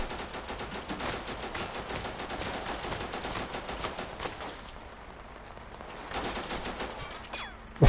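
Total Conflict: Resistance gunfire, steady automatic bursts of rapid shots pounding for several seconds, a brief lull, then another quick burst and a final loud bang.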